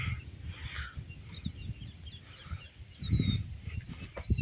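Faint birdsong carries across an open farm field: scattered high chirps and short whistles rise above a rough, rumbling outdoor background that grows louder near the end.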